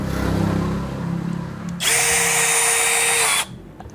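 A PUMA brushless cordless impact drill whirs loudly for about a second and a half, a steady high-pitched drive that stops abruptly, after some lower rumbling handling noise.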